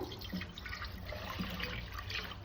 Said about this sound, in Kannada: ಇವಾಗ ಫಸ್ಟ್ ನೀರು ಹಾಕ್ಬೇಕು